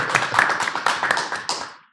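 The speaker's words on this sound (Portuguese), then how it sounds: "Olha, merece uma salva de palmas." Small group clapping in a Catholic podcast studio, a quick burst of close, fairly loud hand claps that thins out and fades near the end.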